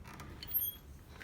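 Half door of the Muir Pass stone hut on the trail, giving a soft, brief creak that swells midway and fades, faint and close in a quiet setting.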